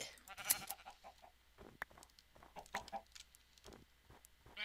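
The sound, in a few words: sheep bleating in Minecraft video game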